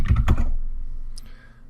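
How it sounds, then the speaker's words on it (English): Typing Java code on a computer keyboard gives a few quick, close key clicks in a short burst, then quiet with a faint tap. "I'm going to type"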